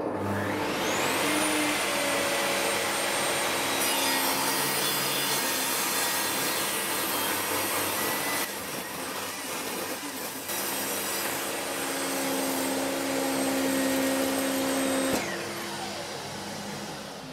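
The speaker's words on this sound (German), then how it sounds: "Ihr werdet auch sehen, wie ich das an der Tischkreissäge umsetze." A loud, close table saw runs with a high whine and cuts through wood in a long grinding pass, with a brief dip midway before spinning down.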